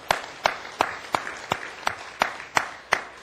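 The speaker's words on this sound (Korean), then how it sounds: "여러분, 존귀와 영광의 박수를 하나님께 드리십시오." A congregation claps in unison at a church gathering, about nine strong rhythmic beats evenly spaced, each clap loud and distinct with a short echo, no voices.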